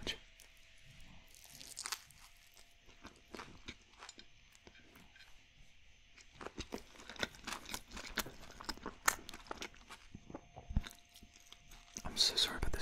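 Close, crunchy biting and chewing of a cucumber and mayonnaise sauce sandwich, with soft mouth sounds and repeated bites growing denser toward the end and quiet whispered speech mixed in.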